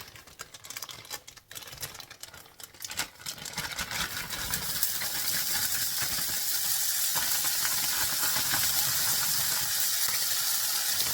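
Seasoning blend hits hot olive oil in a skillet and sizzles loudly. A few clatters and scrapes come first, then the frying swells into a steady close hiss that holds to the end, with no voices.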